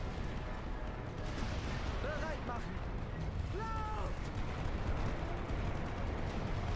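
Artillery battery firing in The Great War: Western Front, a WWI strategy game, a dense continuous roar of guns and distant impacts with no clear separate shots, a voice faintly present underneath.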